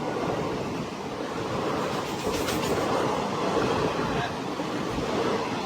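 The Rajdhani Express from Tirupati to Hazrat Nizamuddin moves along the track with a continuous rolling rumble and steady wheel clatter, a close, even roar heard from on board with no speech.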